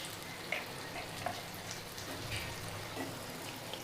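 Eggs frying in masala in a pan, a steady soft crackle and sizzle throughout with scattered small pops, fairly quiet and close, no talking.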